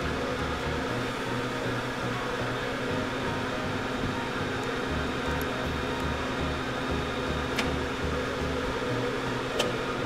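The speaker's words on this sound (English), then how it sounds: "Hear the relay kicking in and out." Relay on a PMWest induction casting machine melting manganese white gold, cycling on and off under a steady mechanical hum, with a pulsing low drone and a couple of faint sharp clicks near the end.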